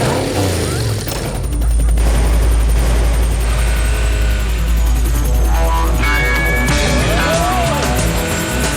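Cartoon helicopter flying effect in an animated chase adventure: a loud, steady low rotor drone with chopping pulses, joined by whooshes and rising whistling tones partway through, layered with music.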